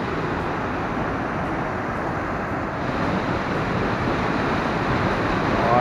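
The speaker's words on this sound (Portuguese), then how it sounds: "Todo o rio cai nessa pequena fenda e vai cavocando na pedra." River water pouring into a narrow rock crevice at Cachoeira do Moinho waterfall, a steady broadband roar that swells slightly toward the end, with no talk.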